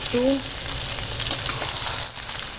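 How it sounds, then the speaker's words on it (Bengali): Chopped tomato, capsicum and green chilli stirred into fried onion in a pan, giving a steady close sizzle with light scraping of the spoon throughout. "এখানে আছে টমেটো ক্যাপসিকাম আর কাঁচা লঙ্কা কুচো সব দিয়ে দিলাম এবার নাড়ব"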